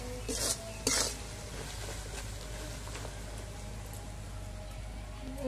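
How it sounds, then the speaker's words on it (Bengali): A spoon scrapes and clinks against a pan while coarsely ground fried spices are stirred into a chili pickle, two brief sharp scrapes at the start, then quieter faint stirring under a steady low background hum. "দিয়ে একটু নাড়াচাড়া করে নেবো"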